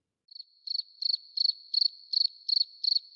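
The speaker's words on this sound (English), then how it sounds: "More crickets." Crickets chirping in short, evenly spaced pulsed bursts, about eight trills in a steady rhythm, clear and isolated against silence.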